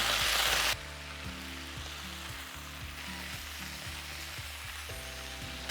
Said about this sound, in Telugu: వీటిని కూడా ఈ మసాలాలో పాటు వేసి ఫ్రై చేసుకుంటున్నా.